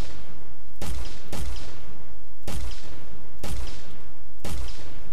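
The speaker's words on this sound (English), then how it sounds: "Now we should have a grenade launcher slash rocket launcher kind of weapon." Five sharp projectile shots and blasts from a grenade launcher weapon in an Unreal Engine 4 game, arriving in an irregular rhythm of quick pairs and singles, each a loud broadband crack that decays briefly, with no voices.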